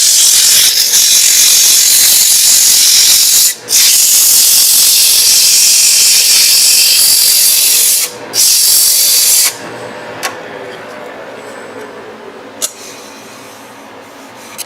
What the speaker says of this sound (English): On to sanding.